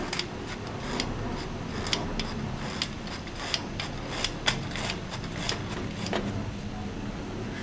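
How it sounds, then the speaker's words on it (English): Flour and spices for a Trini sponge cake being sifted over wet batter, a run of light rhythmic clicks and rattles from the sifter repeating at close range over a quiet kitchen background. "Place in my sifter and I'm just going to sift it over the wet batter."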